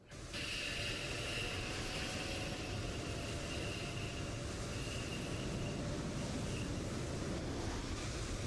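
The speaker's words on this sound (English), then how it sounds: "APU spooling up" The auxiliary power unit of a TFDi MD-11 airliner in a flight simulator spools up, producing a steady, constant rushing roar with a faint high whine throughout.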